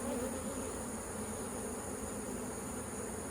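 A steady, dense buzz from honeybees fills the air around an open hive during a summer inspection, loud and close with no talking over it.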